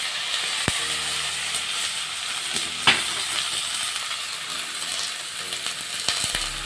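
Ginger stirred as it fries in a pan for a fish soup with moringa leaves, giving a steady close sizzle with scattered scraping clicks from the utensil against the pan.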